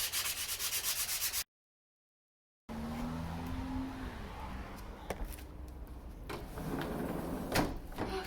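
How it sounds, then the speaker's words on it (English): Sandpaper rubbed by hand across the wood of a desk drawer to smooth splintery edges, a steady close scraping hiss broken by a short gap and a few sharper knocks, with no talk. "I'm going to sand it a little bit to make it not splintery"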